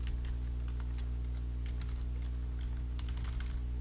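Rapid typing on a computer keyboard while entering PHP code, a steady patter of quiet key clicks over a low electrical hum, with no talking.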